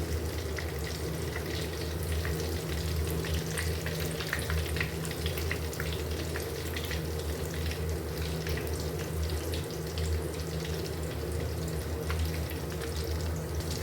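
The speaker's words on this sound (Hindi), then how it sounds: "इनको हमने हल्की आंच पर फ्राई कर लेना है" Chicken donuts frying in oil over a low flame, a continuous dense bubbling sizzle that holds evenly throughout, close and unbroken, with no talking.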